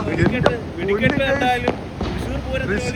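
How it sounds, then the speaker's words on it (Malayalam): Sharp firecracker bangs go off a few times at irregular intervals at night, partly buried under excited voices talking over them. "ഇത് എന്തോടാ ഇത് മത്സര പടക്കോടാ"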